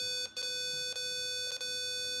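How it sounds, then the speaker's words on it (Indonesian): A buzzer alarm on a password-based access prototype sounds a steady, continuous electronic tone, broken by a few very brief dropouts, with no talking. "buzzer tidak akan berhenti berbunyi"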